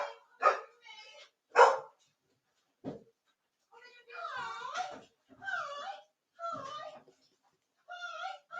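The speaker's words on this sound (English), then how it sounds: "Dogs are going absolutely mental." Several dogs bark and wail in short excited bursts around a room during a home football watchalong, close and fairly loud, with a person's voice speaking between the barks.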